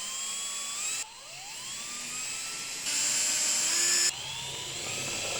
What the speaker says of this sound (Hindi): ऐसे इसको क्लैंप लगा के फिक्स करता हूँ और फिर इसको लगाता हूँ स्क्रू।